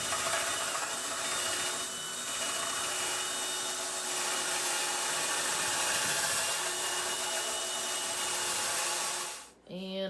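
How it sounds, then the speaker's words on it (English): A power drill drills holes for a concrete retaining wall, whining on and on, mid-level and fairly even, before cutting off abruptly near the end. "he's drilling the holes"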